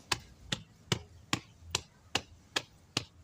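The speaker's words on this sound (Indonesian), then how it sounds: "Jadi harus kita tepuk-tepuk secara melingkar." Hands tap around the sides of a plant pot to loosen roots before repotting, producing eight sharp, evenly spaced taps about half a second apart, close and fairly quiet, with no voices.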